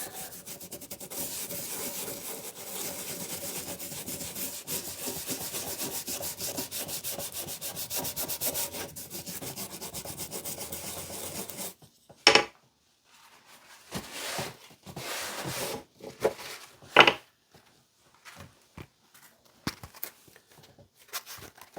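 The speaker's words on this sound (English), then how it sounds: "Scrubby brush here." A stiff brush scrubs an antique axe head steadily and continuously for about twelve seconds, then gives way to a series of short, separate scrubbing strokes and knocks.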